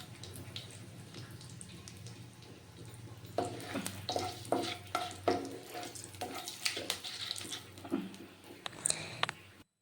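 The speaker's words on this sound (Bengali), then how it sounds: "এলাচ, শুকনো লঙ্কা আর কিছুটা গোটা জিরে, এগুলো দিয়ে ততক্ষণ আমি নেড়ে নেব যতক্ষণ না এটা দিয়ে একটা সুন্দর গন্ধ বেরোচ্ছে" Whole cardamom, dried red chilli and cumin seeds stirred in hot oil for a Bengali potato dish, with a low steady sizzle building into repeated scraping stirs and clatter close by, no voices.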